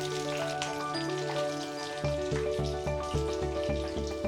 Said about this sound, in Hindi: हमें इन्हें गोल्डन ब्राउन होने तक अच्छे से फ्राई करना है।